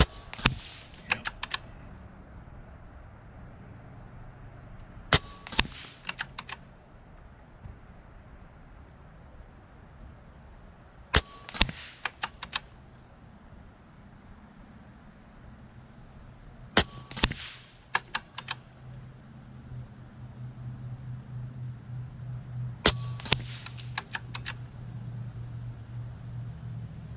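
Regulated Benjamin Marauder .22 field-target air rifle firing a shot string outdoors: five sharp, fairly quiet snaps spaced several seconds apart, each followed by brief clicks, over a faint steady background hum.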